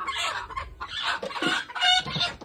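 Chickens clucking steadily at close range, a busy run of overlapping clucks and short squawks with no talk over them.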